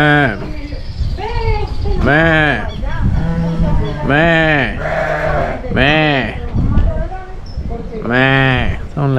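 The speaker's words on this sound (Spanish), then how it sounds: "Son las cabras." Goats at a park farm enclosure in Valle del Cauca, Colombia, give loud, close, wavering bleats, several calls in a row overlapping one another, with people talking nearby.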